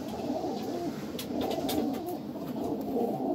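Pigeons coo in a loft in Oklahoma, several soft, rounded coos repeating close by over a low, steady background hum, with no talking.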